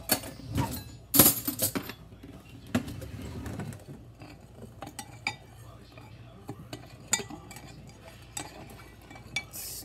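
A spoon stirs berry blue jello powder dissolving in a bowl, producing irregular clinks and scrapes that are loudest and clustered at first, then lighter, sparser taps.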